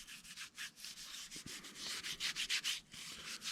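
A wooden coaster is sanded by hand in rapid back-and-forth strokes, a steady close rasping rub with rhythmic swells and no talking.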